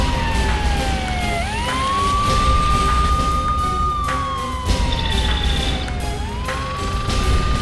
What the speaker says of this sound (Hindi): फायर ब्रिगेड को बुलाया? हाँ सर, आ रही है।